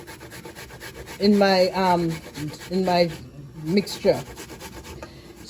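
Bananas are grated by hand into a mixture for banana dumplings, making rough rasping, rubbing strokes. A voice speaks briefly over the scraping.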